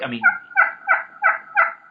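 Two wild turkey hens calling in western country, a rapid series of five raspy, evenly spaced yelps following a brief lower note, close and clear with no voices.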